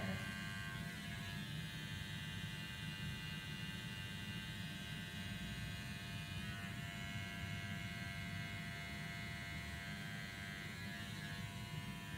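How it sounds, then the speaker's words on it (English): An electric hair trimmer buzzes steadily and continuously while trimming around the ears, a constant close, moderately faint hum with no voices. "Utilizing just the edge of the trimmer"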